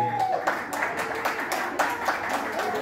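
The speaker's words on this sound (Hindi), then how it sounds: "तालियां बजती रहनी चाहिए" Audience clapping at a birthday party performance, a steady patter of many hands that carries through the whole stretch at moderate loudness, with no talk over it.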